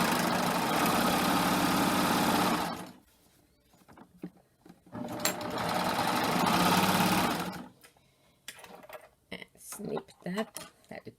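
A serger runs in two loud, steady bursts while sewing and trimming a 2-thread wide flatlock seam. Between the bursts come quieter handling clicks and rustles, and a voice speaks near the end.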